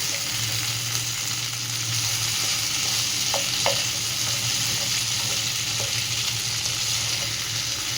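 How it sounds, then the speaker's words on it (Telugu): Chicken pieces tossed with masala in a pan give a continuous frying sizzle with a low steady hum beneath and a few small scrapes and clicks; no voices. "ఆ మసాలా అంతా బాగా చికెన్ పీస్కి పట్టుకోవడానికి బాగా మిక్స్ చేస్తున్నాం"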